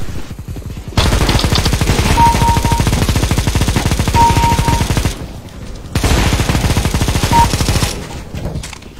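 Rapid automatic gunfire in a Christmas snowball video game, loud sustained bursts of dense repeated shots with brief pauses between volleys, close and dominant, with no talk over it.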